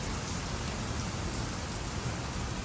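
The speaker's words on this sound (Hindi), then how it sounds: "बिजलियाँ चमकने पे लगी हुई, और ये उड़ती हुई बारिश है यार।" Heavy wind-blown rain pours steadily through a thunderstorm, a dense, unbroken hiss that stays close and loud from start to finish with no voices.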